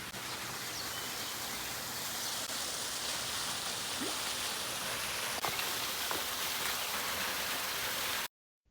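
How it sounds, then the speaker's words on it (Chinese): Steady, dense rainfall pours down at the Qigu visitor center during the plum rain season. The hiss stays even and close for about eight seconds with no voices, then cuts off abruptly. "来到七股游客中心，又下雨了。"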